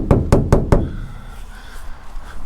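Four sharp, evenly spaced knocks on the bare, uninsulated metal door panel of an Iveco van ring out loud and close, followed by a hollow resonant ring that fades away.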